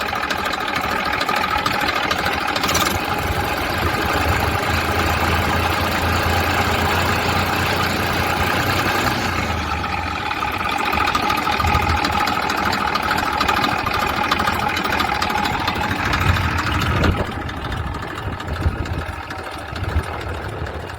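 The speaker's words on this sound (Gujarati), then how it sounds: "Engine powerful." A New Holland tractor engine idles steadily nearby, a continuous low rumbling chug with no speech.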